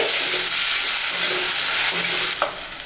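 Tomatoes sauté in a pan over a medium flame for a drumstick and field bean tamarind curry, giving a loud, close, constant hissing sizzle with a brief stirring clatter near the end.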